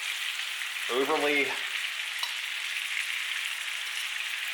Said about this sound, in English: add some of these shrimp in there.